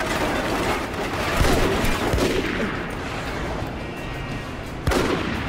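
Gunfire in the video game Rogue Warrior: dense, loud bursts of rapid shots and booming reports overlap continuously, with a few sharper blasts standing out near the start and the end.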